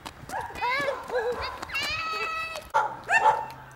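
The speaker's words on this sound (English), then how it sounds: "Dogs." Dogs barking in a yappy burst during a 2008 outing on Phillip Island, Australia, with several sharp, fairly close barks and yips mixed with people talking nearby.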